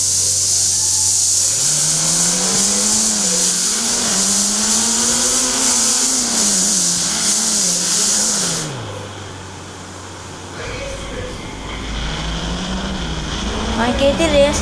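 Racing video game car engine revving loudly through a race start, pitch rising and falling in waves over several seconds, then dropping away before a fresh climb, with game ambience throughout.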